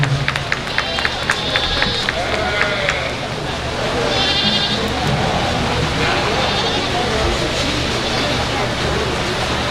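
Goats bleat at a county livestock show during a junior showmanship class, several calls over a busy arena crowd murmur, while a voice talks over the public address.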